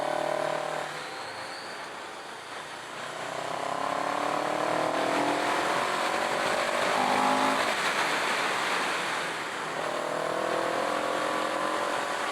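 A 2023 CFMoto 700 CL-X motorcycle climbs a twisty hill at Laguna Seca, its engine rising and falling in pitch through repeated accelerations and gear changes, heard from the rider's position over steady wind rush.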